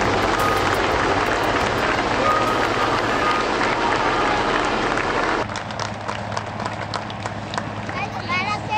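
A large outdoor crowd applauds at the Frecce Tricolori air show in Bardolino, with dense, steady clapping that eases slightly partway through while an announcer talks over it.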